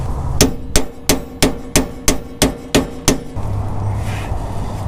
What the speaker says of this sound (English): I'm going to tap on this and try to break it free a little bit